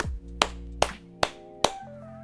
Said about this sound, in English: Golf clap, slow clap, somewhere in between.